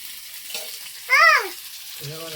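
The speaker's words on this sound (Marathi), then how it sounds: "आपण कढीपत्ता टाकणार आहे आणि आता आपण थोडंसं तेल टाकणार आहे त्याच्यामध्ये" Curry leaves and a little oil sizzle in a hot frying pan, a soft, steady hiss under a brief whistling, chirping tone that rises and falls.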